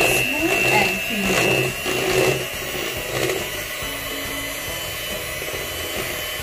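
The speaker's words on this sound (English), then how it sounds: "what I'm going to do now is to whisk the chocolate so it's smooth and creamy." An electric whisk beating chocolate in a home kitchen, a steady motorized whir running the whole time under a voice.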